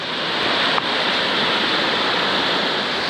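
A flowing jungle river in Puerto Rico, steady broadband rushing water close by, continuous and unbroken throughout.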